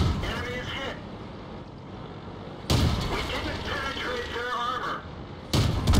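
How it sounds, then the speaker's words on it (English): An artillery shot in World of Tanks lands as a sudden loud boom, with a second heavy report a few seconds later, over continuous battle rumble while someone talks throughout. "And Artie even takes a shot at me there with his friend"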